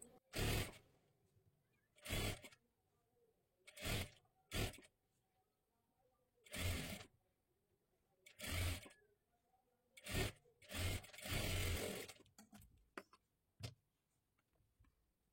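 A sewing machine runs a double seam on a katori blouse in short, faint bursts of stitching separated by brief pauses, with a longer run near the end.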